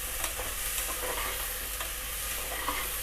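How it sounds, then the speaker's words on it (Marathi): Raw rice for jeera rice stirred and sautéed in a pan over a medium flame until lightly pink, giving a steady close sizzle with soft scraping and stirring scuffs throughout. "गुलाबी असे होईपर्यंत परतून घ्यायचे आहे"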